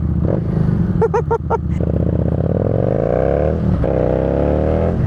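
A Thunderbird motorcycle engine cranks with a few sharp starter bursts, catches and settles into a loud, close idle, then revs up and down in rising and falling throttle sweeps.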